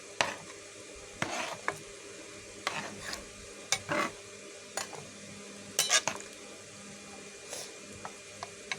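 A spoon stirring tilapia fish curry with ginger-cumin paste in a pan, with scattered scraping clicks and knocks against a soft sizzle, some in quick pairs, close and moderately loud, no talking.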